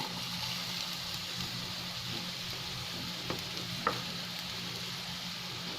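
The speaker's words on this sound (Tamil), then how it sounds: "இது நல்லா ஒரு நிமிஷம் வந்து வதங்கட்டும்." Green chillies, bell pepper and large onion sauté in a pan with a steady, close frying sizzle and a couple of faint stirring clicks, with no talking.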